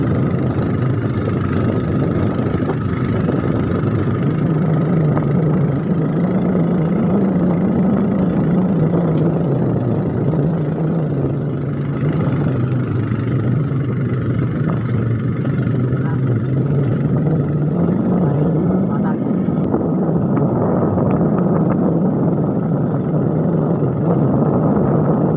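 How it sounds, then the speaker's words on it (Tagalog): A Honda XRM 125 motorcycle engine idles steadily on a rural provincial road, a low, even putter holding for the whole stretch with voices talking over it. "Anong klaseng motor to? XRM Honda 125."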